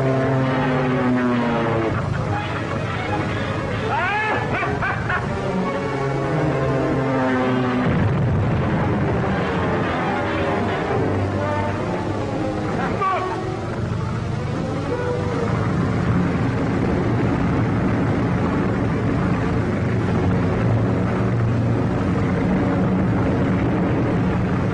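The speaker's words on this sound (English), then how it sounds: "Rocket plane 8 miles off Devil's Point," An aircraft roars overhead in a 1934 serial, billed as a rocket plane eight miles off Devil's Point; the loud, continuous engine drone is mixed with dramatic orchestral music and a few booming blasts.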